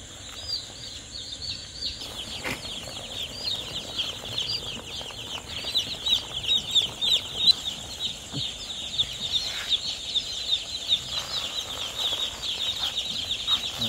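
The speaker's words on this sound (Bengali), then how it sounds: "RRP কোম্পানির একদিন বয়সের ব্রয়লার মুরগির বাচ্চা" One-day-old RRP broiler chicks in a brooder give a dense, continuous chorus of high peeping with occasional wing flutters, steady and close throughout.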